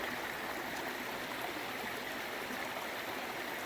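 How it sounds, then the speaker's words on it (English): A river rushes through a rocky gorge near Rainbow Lake in the 100 Mile Wilderness, giving a steady, full, close roar of flowing water that continues unbroken with no voices. "This river's like in a gorge."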